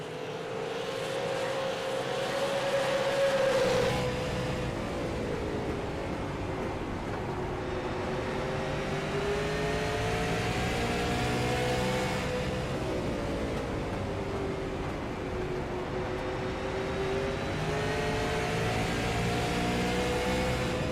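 Race cars at the SARA Fall Brawl on the Impel National Tour drone past with steady, rising and falling engine tones. The pitch sweeps as they pass, continuous throughout.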